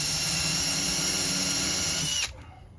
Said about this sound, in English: I am going to use this type of bit to pre-drill my hole and get it ready.